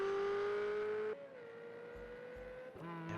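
A Ferrari race car in a racing game hums steadily in a sustained engine tone, its pitch dipping as it shifts, with a brief squeal-like change near the end.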